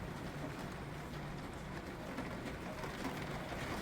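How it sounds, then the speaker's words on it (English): A heavy rain downpour pours down outside a van, making a steady, dense hiss that holds evenly throughout with no voices. "Yeah, another downpour. Coming down pretty darn good here."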